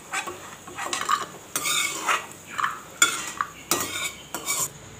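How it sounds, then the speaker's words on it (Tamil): Cashews roasting in ghee are stirred in a pan, giving repeated metallic scrapes and clinks of a spoon against the metal over a faint sizzle, in irregular bursts with no talking. "இப்போ முந்திரி வறுத்து எடுத்துக்கலாங்க."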